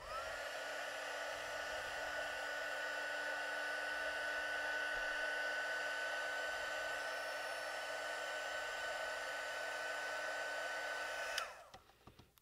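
Right up close, a heat gun blows hot air onto prop flames for a bottle prop in a steady, high whirring hiss, then switches off and spins down near the end.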